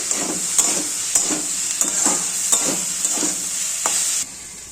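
Cauliflower curry sautéed with salt and turmeric in a pan, a close continuous sizzle punctuated by regular scraping strokes of a spatula about every half second, stopping abruptly near the end.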